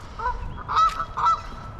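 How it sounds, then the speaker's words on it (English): Two loud honks from a goose, close by and a fraction of a second apart, over faint outdoor background. "You see the geese are happy about it."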